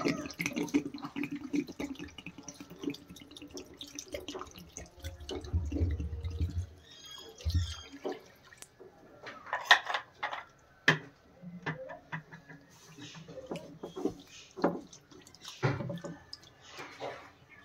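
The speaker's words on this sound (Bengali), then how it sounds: "লাউ পাতাগুলো আমি জল ঢেলে বেশ খানিকক্ষণ, অন্তত মিনিট 5 ভিজিয়ে রেখে দেব" Water poured by hand over bottle gourd leaves and stalks in a village kitchen, splashing and trickling in short uneven bursts with drips and light clinks between pours, close and fairly quiet.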